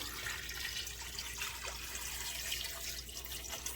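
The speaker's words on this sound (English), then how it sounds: "Now put a little water." A little water poured from a tap into a pan of raw chicken gizzards, a steady soft splashing rush that runs throughout.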